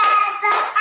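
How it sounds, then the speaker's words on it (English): Hands clap together in a few quick bursts, close and loud, with a voice mixed in. "Clap your hands together."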